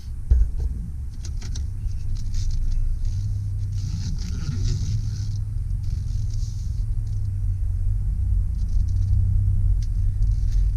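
A lowered-floor 2004 Pontiac Montana cargo van with 31K miles rolls off on a drive, its engine and road noise forming a steady, close low rumble with faint rattles above and no talking.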